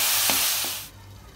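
Tomatoes fry in oil in a pan for a crab roast, giving a loud, close, hissing sizzle that drops off sharply partway through the brief moment.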